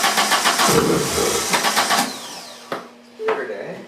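A 1983 VW Rabbit GTI engine fires raggedly and briefly, a pulsing run of rough combustion that dies away, followed by a couple of sharp isolated clicks, with someone talking over it.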